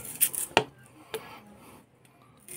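A knife chops onion on a cutting board, giving a few sparse, sharp clicking taps with quiet pauses between them.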